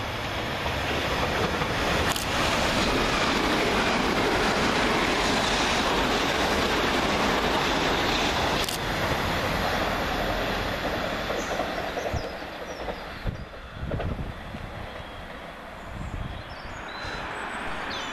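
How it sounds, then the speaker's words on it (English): Two coupled Class 387 electric units, 387214 and 387215, race through Goring-by-Sea station on a Brighton to London Victoria diversion, a loud sustained roar of wheels and rushing air that holds steady before easing off near the end. "Fast in the opposite direction is 387214 and 387215, working 1 Zulu 15 from Brighton to London Victoria via Littlehampton"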